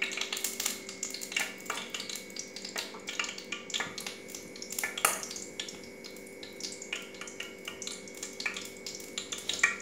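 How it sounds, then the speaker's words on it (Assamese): Oil heating and foaming in a kadai over a gas flame while making sweet tamarind pickle, a quiet continuous crackle and fizz with scattered sharper pops, close and alone with no talking. "আমি দেখিছোঁ যে আমাৰ কেৰাহীটোত তেলখিনি এতিয়াও ফেন হৈ আছে"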